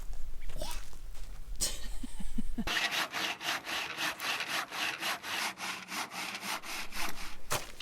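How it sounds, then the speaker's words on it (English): A rough branch-cutting hand saw rasps steadily through wood in quick back-and-forth strokes, close up, after a brief stretch of rustling and talk. "This is the only saw I could find. Really rough, designed for sawing branches"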